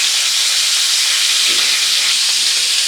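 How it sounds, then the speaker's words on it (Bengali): Pointed gourd (potol) fries in oil, making a loud, dense, unbroken hiss close to the pan with no pauses or voices. "পটলগুলোকে হালকা লাল করে ভেজে নিতে হবে।"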